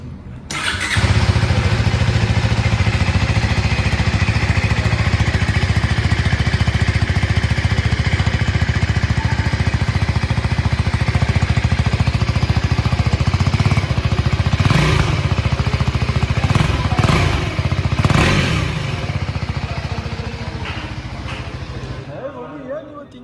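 A 2025 KTM motorcycle engine firing up and idling, a loud steady close rumble that holds for about twenty seconds with a couple of throttle blips before tapering off.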